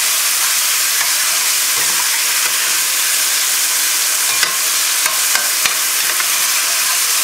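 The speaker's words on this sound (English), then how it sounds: "You see, it keeps sauteing. You don't see it steaming." Beef filet strips with peppers and onions saute in a hot pan with a steady, loud sizzle and crackle throughout, with occasional stirring scrapes and no talking.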